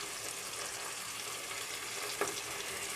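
Spices including turmeric and chole masala frying in oil with onions for chana dal, giving a constant close sizzle with a brief stirring scrape, no talking.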